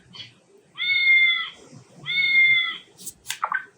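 A baby flash card device plays a recorded cat meowing: two drawn-out electronic meows in a row, loud and clear, followed by brief sharp chirps at the end.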